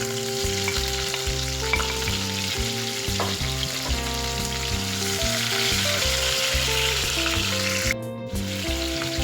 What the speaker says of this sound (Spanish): Ahora en el mismo aceite vamos a agregar la cebolla